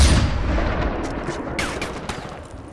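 Gunfire rings out in the Far Cry 4 video game, a loud opening blast followed by several sharper shots and booms that fade over a couple of seconds, with no talking.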